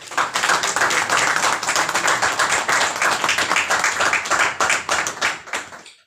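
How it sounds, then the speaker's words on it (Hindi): A church congregation at a Passover teaching service claps steadily and loudly for about six seconds, a dense, continuous patter of many hands that fades out at the end. "प्रभु के लिए ताली बजा सकते हैं"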